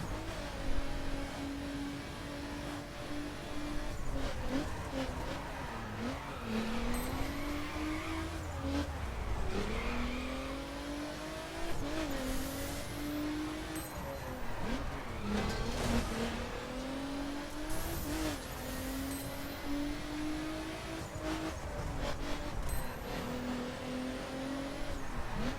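Car engine in the racing video game The Crew, a sports-class performance car held high in fifth gear, droning steadily with rising and falling revs and brief wheel-spin and tire-squeal over a continuous, fairly loud run with no talk.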